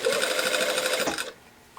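A sewing machine stitching the lining seams of a sleeve, running steadily in a fast, even mechanical whir with rapid needle rhythm, close and loud, then stopping abruptly.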